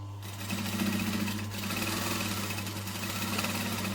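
A sewing machine runs continuously at steady speed while top stitching an eighth of an inch from the edge, producing a close, even motor hum with a rapid mechanical needle chatter throughout.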